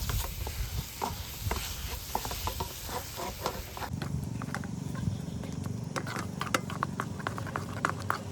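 Continuous stirring of a sweet kacha golla mixture in a pan, a steady scraping, patter-like texture at close range that thins out partway through, with no talking.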